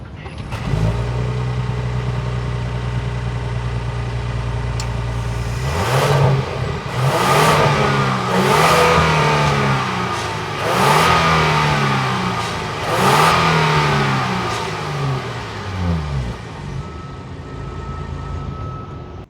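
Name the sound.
Genesis V6 twin-turbo exhaust revving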